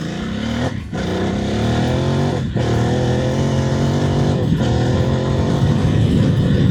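An adventure motorcycle's engine roars loudly as heard from inside the rider's helmet on an off-road climb, a steady throbbing drone that briefly dips and rises again with each of three gear changes, dominating with no speech.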